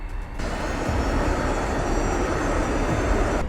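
Engines of a Ryan International Airlines airliner, Flight 590, run at takeoff power: a loud, steady, broad roar that starts abruptly and holds without a break.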